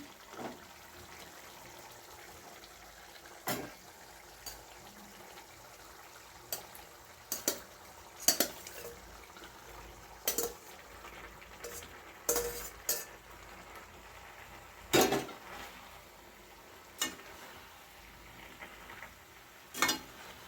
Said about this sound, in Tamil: அடுப்பை ஸ்லோவில் வச்சுட்டு பாஸ்தா நம்ம நல்லா கலரிக்கிடுவோம்